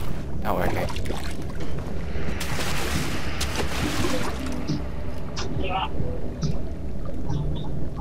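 Paddling through water in the Amnesia video game: continuous loud, rough splashing and sloshing for the whole stretch, with brief vocal sounds rising over it now and then.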